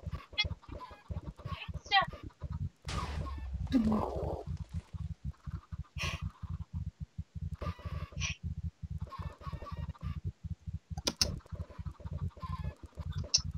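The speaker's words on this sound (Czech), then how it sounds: "Tak pojďte slepičky." Hens cluck in short, scattered bursts close by, over a run of low, rapid thudding pulses that continues throughout.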